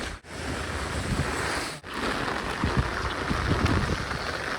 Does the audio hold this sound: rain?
yes